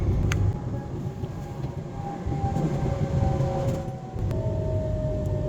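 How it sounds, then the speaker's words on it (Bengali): A train heading into Rome Termini rumbles along at speed past Ciampino, heard from the inside, a heavy continuous roar with faint rail whines and clatter. "এই চাম্পিনোর পরে আসলে ট্রেনটা খুবই দ্রুত যায়"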